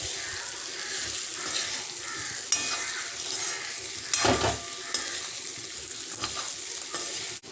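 Fried bitter gourd and potatoes are stirred with spices in a pan, giving a steady close sizzle with scraping strokes of the spoon and a few louder clatters, with no voices.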